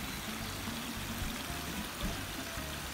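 Clear stream water flows through Kakitagawa park in a steady, continuous rushing and gurgling close by, with no talk over it.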